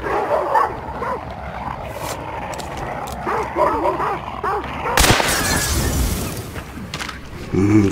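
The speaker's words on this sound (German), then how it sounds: "Aber ich hasse wilde Hunde." Wild dogs bark and yip in Hunt: Showdown, sharp repeated barks with whimpers scattered through the clip, a loud crash near the middle, while someone talks over the sounds.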